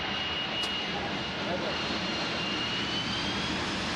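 An Air Inter airliner landing, its jet engines giving a steady, loud broadband roar and whine that holds constant throughout.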